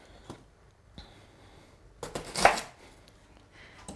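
A knife cuts a fennel bulb into quarters on a cutting board, giving a few sparse chops followed by a louder cluster of close cuts near the end.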